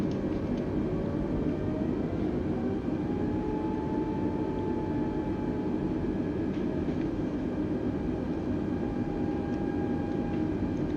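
Airbus A320 engines in a flight simulator game spooling up with a little thrust while taxiing, a steady low rumbling drone with faint rising whine tones, constant and even with no talk.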